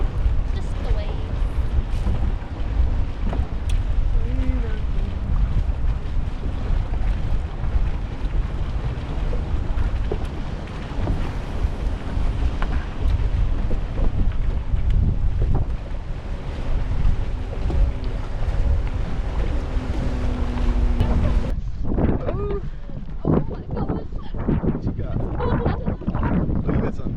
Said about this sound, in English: Just the waves.